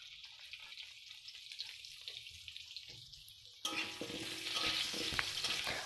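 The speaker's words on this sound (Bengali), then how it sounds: "এখানে আমি আলু প্রথমে ভেজে নেব লবণ" Potatoes with salt and turmeric go into hot mustard oil with whole garlic cloves for a mutton curry. A quiet kitchen hush suddenly gives way to a loud, close, steady crackling sizzle that lasts to the end.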